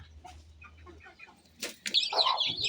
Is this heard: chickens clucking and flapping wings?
yes